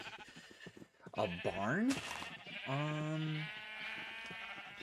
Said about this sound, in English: But we got all of our sheep here for when we need them.